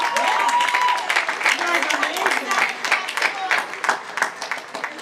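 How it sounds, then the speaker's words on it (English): Audience applause at a school graduation ceremony, a steady wash of many hands clapping that fills the clip, with a voice briefly audible over it early on. "let's give them another round of applause."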